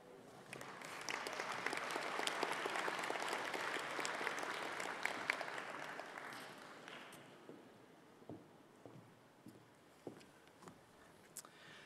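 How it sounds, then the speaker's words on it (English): A crowd at a 2022 CQUniversity graduation ceremony in Sydney applauds steadily for several seconds, then the clapping thins out to a few scattered claps before fading. "Anne Sardesay deserves a round of applause for absolutely nailing those names"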